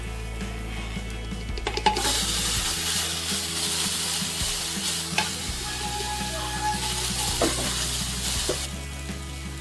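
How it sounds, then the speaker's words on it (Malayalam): Green gram with grated coconut being stirred in a pan for thoran, a steady sizzle with repeated scraping spoon strokes, close and continuous without talk. "അതിനുശേഷം നമുക്ക് പയർ ചേർത്തിളക്കാം."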